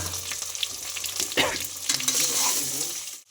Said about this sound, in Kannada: ಸ್ವಲ್ಪ ಎಣ್ಣೆ ಹಾಕ್ಕೊಳ್ಳೋದು ಅವಾಗ ಅವಾಗ ಹಿಂಗೆ ತಿರುಗಿಸ್ಕೊಂತಿರಬೇಕು ತರಕಾರಿ ಹಾಕಿ